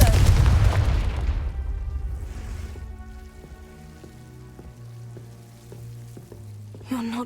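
A Confringo fire-blast spell from the Hogwarts Legacy video game bursts loudly at the start, a broad booming explosion that decays into a ringing tonal tail over game music, with a brief sparkling flare near the end.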